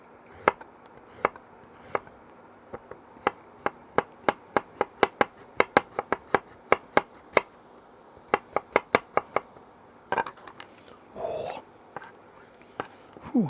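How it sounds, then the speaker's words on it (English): A knife slices garlic into little slices on a cutting board while making red tomato chutney: a long run of sharp, close chops, mostly single taps in an uneven rhythm, a few brief pauses, and some handling noise near the end. "I'm just going to cut it into little slices."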